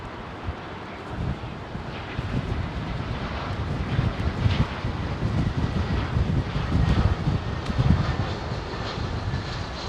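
A Singapore Airlines Boeing 747 freighter roars in on approach and landing, its engine noise swelling and then holding steady under blustery wind buffeting the microphone, with no voices.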